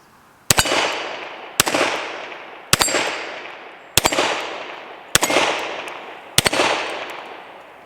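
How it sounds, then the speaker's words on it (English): Six sharp, loud gunshots from a Kimber Longslide Target 10mm pistol fired at a steel plate rack, spaced about a second apart, each with a ringing tail of reverberation and no talking. "Alright, let's run the plate rack."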